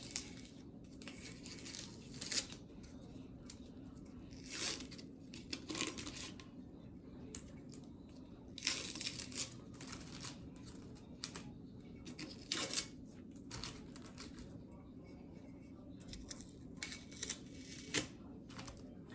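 Tape peels off a gumball machine during a DIY makeover, making quiet, scattered tearing and crinkling bursts over a soft steady background, with no voices.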